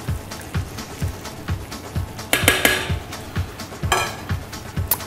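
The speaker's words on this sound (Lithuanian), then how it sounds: "visas mūsų daržovės, kurios buvo apkeptos prieš tai, dabar keliauja tiesiai į keptuvę" Pre-roasted vegetables tipped into a frying pan for beef bourguignon, with steady soft clatters and scraping of food against the pan plus a few sharper bursts, close and moderately loud with no talking.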